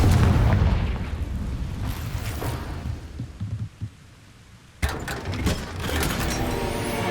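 A Confringo spell explosion in Hogwarts Legacy, a heavy booming blast that rumbles and fades over a few seconds, followed by a second sharp burst and crackling rumble, with no speech.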